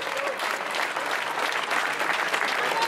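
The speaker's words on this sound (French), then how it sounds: "Un petit peu de bruit pour Alexis Goujard de la formation AG2R" An audience at a Tour de Romandie 2018 cycling podium ceremony applauds steadily throughout, a dense wash of clapping that stays even and fairly loud without letting up.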